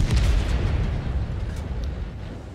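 A single heavy cannon shot from a T110E5 tank in World of Tanks, a loud booming blast at the start that rumbles and fades away.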